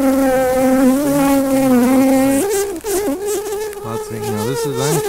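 Honey bees buzzing loudly and steadily at close range while a hive is opened for inspection, a dense droning hum that wavers in pitch as individual bees pass near.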